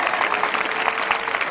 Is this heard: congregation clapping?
yes